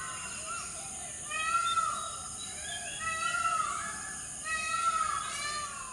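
A peafowl gives a series of meowing cries in a jungle at dusk, three drawn-out wailing calls at steady intervals over a faint background hum.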